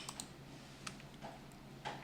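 A few sharp mouse clicks, soft and close, spaced irregularly over a quiet room hum while drawing straight lines in Illustrator.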